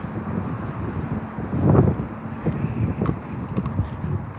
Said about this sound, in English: It's a little bit windy today.